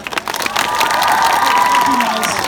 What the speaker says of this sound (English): Please give a huge round of applause for Bryan and Amelia.